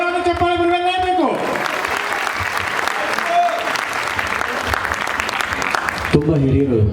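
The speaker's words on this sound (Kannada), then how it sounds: "ವೇದಿಕೆ ಮೇಲೆ ಬಂದ ನಂತರ ಒಂದು ಜೋರಾದ ಚಪ್ಪಾಳೆ ಬರಲೇಬೇಕು" An audience claps loudly for a teacher coming onto a stage, a dense sustained burst of applause lasting several seconds, with singing heard before and after it.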